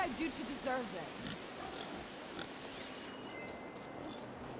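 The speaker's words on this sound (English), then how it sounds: "Rain too? What did I do to deserve this?" Rain falling in Horizon Forbidden West, an even, soft patter that continues throughout, with a voice talking briefly near the start.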